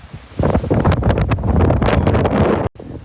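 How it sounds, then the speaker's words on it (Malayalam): Strong wind buffets the microphone in loud roaring gusts for most of the clip, then briefly cuts out near the end, atop Madhugiri hill fort in Karnataka. "ഓ, ഇവിടെ നല്ല കാറ്റുണ്ട്."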